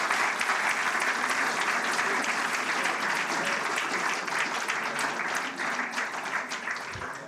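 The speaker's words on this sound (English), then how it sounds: "please join together and give them a very big applause for a wonderful effort tonight" A large audience at an evening live event applauds continuously, a thick, even wash of clapping that holds strong for several seconds and tapers slightly toward the end.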